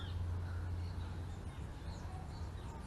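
Birds calling in garden trees in a city castle garden, faint scattered chirps and calls over a steady low hum of distant traffic.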